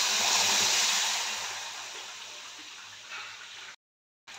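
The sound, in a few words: water poured into a pan for pitha syrup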